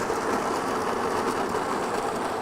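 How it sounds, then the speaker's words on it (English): A Baratza Encore ESP Pro coffee grinder grinding beans, a continuous dense whirring buzz with gritty crunching texture, close and steady throughout without speech. "we'll get a little noise check on this now too. Yeah, here we go. Let's go ahead and grind."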